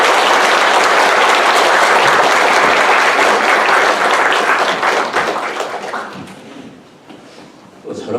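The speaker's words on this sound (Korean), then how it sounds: "큰 박수로 한번 환영했으면 좋겠습니다" A church congregation applauds to welcome a preacher, dense sustained clapping for about six seconds that thins out and fades toward the end.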